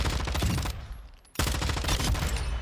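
Rapid automatic LMG fire from the video game Modern Warfare 2 comes in two dense bursts separated by a brief pause, loud and close with no talking.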